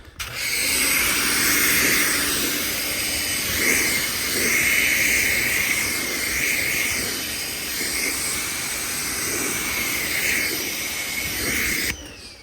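Water sprayed over coated car panels during a rinse: a continuous loud hiss with gently pulsing surges that starts and stops abruptly at the ends.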